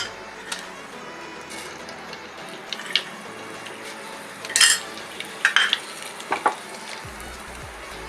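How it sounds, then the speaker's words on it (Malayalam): Mustard seeds spluttering in a hot pan while cooking raw plantain peel thoran, a soft background sizzle with a few sharp crackling pops bunched near the middle and a low thump near the end. "അതിൽ നമ്മൾ ആദ്യം ചെയ്യേണ്ടത് ഒരു അര സ്പൂൺ കടുക് കടുകിടാം"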